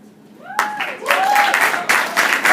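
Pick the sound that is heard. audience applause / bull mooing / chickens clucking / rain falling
audience applause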